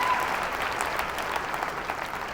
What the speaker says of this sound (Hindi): तालियों में वो दम नहीं आ रहा है।